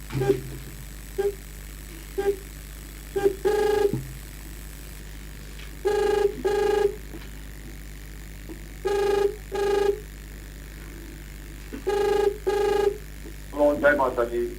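An incoming call makes a telephone ring in repeated double bursts, one pair about every three seconds, over a quiet background, with a voice briefly heard at the end.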